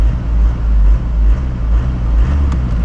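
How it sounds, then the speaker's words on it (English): A 1997 Volkswagen Passat B5 Variant with a 1.9 TDI 110 hp diesel engine gives a steady, loud, deep rumble with no pauses. "Let's hear the TDI engine."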